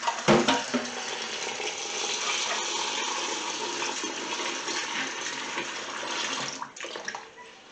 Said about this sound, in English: we're just going to give it a nice rinse off